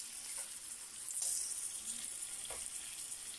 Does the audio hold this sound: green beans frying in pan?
yes